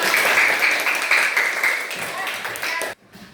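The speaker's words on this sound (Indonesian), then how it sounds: "Tepuk tangan." Children clap their hands together in a classroom, a dense burst of clapping that stops abruptly, with voices mixed in.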